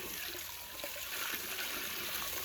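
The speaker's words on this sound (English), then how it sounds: "Right here watering the pigs." Water poured into a pig's dish on a farm in hot weather, a steady soft trickling and splashing running continuously at low level, fairly faint and without speech.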